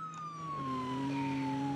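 A police car siren in BeamNG.drive wails steadily and loudly throughout, its pitch sliding gradually downward as a second siren tone joins partway through, with no talk over it.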